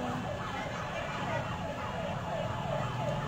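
A fire truck siren wails in repeated rising and falling sweeps, moderately distant, over a steady background of traffic rumble, at a fire in Novaliches, Quezon City.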